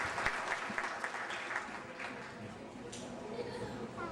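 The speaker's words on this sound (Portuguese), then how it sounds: "Vamos aplaudir a esposa dele." Audience applauding a guest's wife at a church gathering, a steady, fairly faint patter of clapping throughout with a slightly distant, roomy sound.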